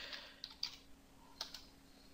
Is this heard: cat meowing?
no